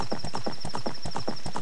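Rhythmic hoofbeats of a horse galloping in Zelda: Ocarina of Time, a steady fast clip-clop pattern repeating evenly throughout, with a constant high game tone running underneath.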